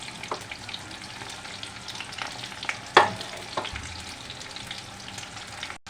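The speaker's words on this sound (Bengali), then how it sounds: "এই পেঁয়াজগুলি হালকা হালকা ভাজা হয়ে গেছে" Onions sizzle steadily in a pan for chicken kosha, a soft continuous frying hiss broken by a few stirring clicks and one sharper clatter.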